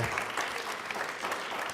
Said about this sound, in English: I think we should give him a round of applause again